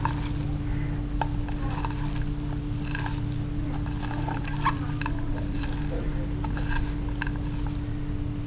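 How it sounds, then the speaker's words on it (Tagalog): Lechon belly marinade ingredients being mixed in a bowl, with soft scraping and clinking against the bowl heard close up over a steady low background hum, no talking. "imimix ko lang siya"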